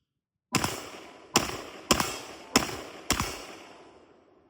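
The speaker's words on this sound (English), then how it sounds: "Let's throw it back on the rifle and see if it's zeroed." Five sharp rifle shots fired at a steady pace to check whether a $90 red dot sight holds its zero, each a loud close crack with a short decaying tail, and no talk between them.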